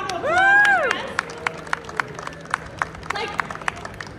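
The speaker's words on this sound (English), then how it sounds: "Give her a round of applause" A few scattered handclaps from a small group cheering a woman who just drove a nail into a board, sharp separate claps spread over several seconds, with someone talking over them.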